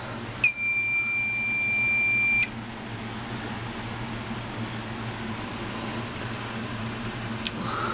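A loud, steady electronic fire alarm tone from a building fire alarm panel blares for about two seconds during a system test, then cuts off, leaving a low mechanical hum in the room.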